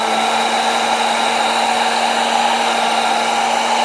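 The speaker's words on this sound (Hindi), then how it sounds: "नोवा का ड्रायर है जो मैं यूज़ कर रही हूँ।" A Nova hair dryer blows steadily on alcohol ink artwork, giving a loud, continuous whooshing roar with a constant motor whine and no pauses.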